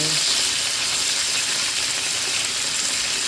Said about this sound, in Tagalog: Ito ngayon, medyo iprito lang natin.